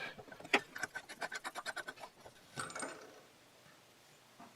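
A part of a Victor oxygen regulator is unscrewed during a rebuild, giving a quick run of close ratcheting, scraping clicks that fade into quieter handling noise.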